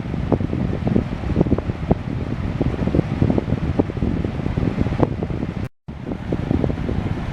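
Air from a fan blowing straight onto an uncovered microphone, a loud, steady rumbling buffet with constant fluttering gusts, broken by one brief dropout near the end.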